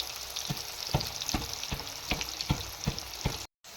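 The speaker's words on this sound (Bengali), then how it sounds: "প্রথমে হচ্ছে মা তেলের উপরে অল্প হলুদ আর নুন মাখিয়ে ভেজে নিচ্ছে।" Pieces coated with turmeric and salt fry in oil in a home kitchen, making a soft, steady sizzle. Rhythmic stirring knocks come roughly every half second, and a brief silent gap falls near the end. No voices are heard.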